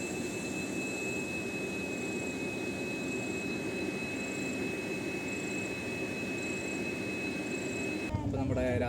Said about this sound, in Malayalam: അടുത്തൊരു ട്രെയിൻ വന്ന് നിന്നപ്പോൾ നല്ല ഫ്ലൈറ്റ് പോണ സൗണ്ട് പോലെ തോന്നി